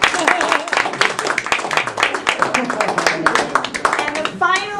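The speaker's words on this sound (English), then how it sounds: "So one more round of applause." An audience breaks into applause, dense overlapping clapping that runs throughout at fairly close range, mixed with voices and someone talking near the end.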